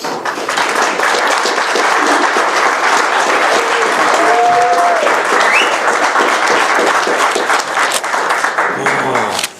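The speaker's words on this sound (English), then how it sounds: "Let's give a round of applause" An audience applauds a militia commander taking the stage in Norwich, New York, loud sustained clapping from a crowd with a few scattered cheers and voices mixed in.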